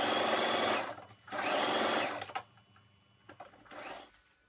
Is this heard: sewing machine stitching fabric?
yes